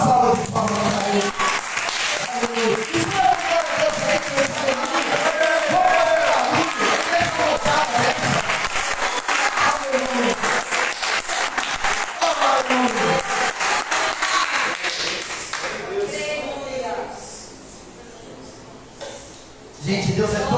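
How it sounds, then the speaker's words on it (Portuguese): Church congregation clapping and cheering during a sermon, a loud sustained wash of applause with shouts mixed in, easing toward the end as it thins out. "Dá uma salva de palmas para ele"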